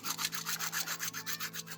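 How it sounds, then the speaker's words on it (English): Sanding both sides of a plastic Gaslands vehicle part to roughen it for super glue: faint, rhythmic rasping strokes repeating steadily and close up, with a low steady hum underneath and no talk. "requires some sanding on both sides to get some extra grippiness for the super glue"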